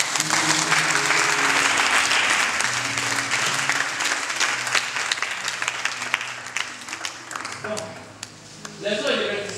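A congregation at a church service applauds to acclaim the Lord, sustained clapping that fills the space for several seconds and fades near the end, with voices mixed in under the applause.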